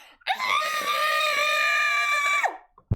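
A human voice imitates a horrifying monster scream from a creature of metal, organ and ink: one loud, sustained, harmonic shriek lasting about two seconds that bends down at the end, followed by a short, sharp noise.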